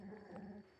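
Dogs growl low and rough while fighting, a brief, faint, continuous snarl up close.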